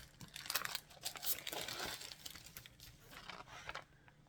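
Thick A4 aluminium foil sheets are handled close up, giving irregular crinkling and crumpling bursts of varying loudness.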